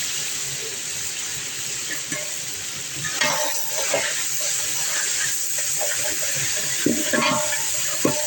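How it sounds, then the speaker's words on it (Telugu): Tomato pieces frying in oil for biryani, a steady close sizzle with clinks and scrapes of stirring throughout, no talk over it. "బాగా వేగనివ్వాలి"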